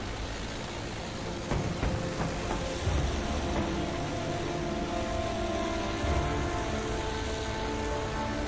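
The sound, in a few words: airplane flying in Battlefield 1 video game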